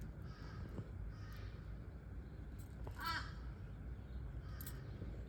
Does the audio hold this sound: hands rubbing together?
no